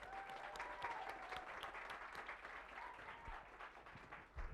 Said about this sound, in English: Please give a round of applause for Chef Cathy Pavlos.